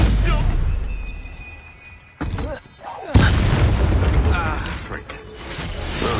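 Spell explosion from the Confringo curse in the game Hogwarts Legacy, sharp booming bursts and crackling impacts amid battle effects, with a loud blast near the middle followed by a sustained rumbling wash.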